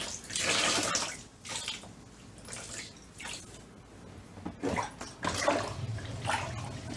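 Cold water runs loudly from a tap, a steady splashing rush that surges and eases in waves, close by, during yarn dyeing.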